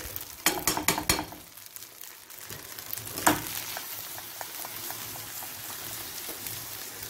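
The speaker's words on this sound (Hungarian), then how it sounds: "Ott pirul a hagyma is." Onion and grated cheese frying in a pan for cheese dumplings: a steady sizzle with a few sharp clatters of stirring at the start and a scrape midway, no voices.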